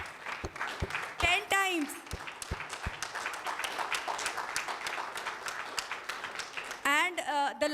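An audience at a talk claps together, a dense, sustained patter of many hands with a few sharp louder claps, while a voice speaks over it at the start and end.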